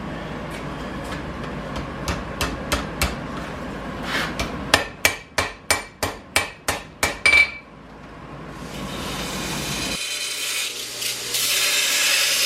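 A hammer strikes a metal hook point on a timberjack to bend it. About fifteen hard, ringing blows come close up, spaced loosely at first and then quickening into a steady run before they stop.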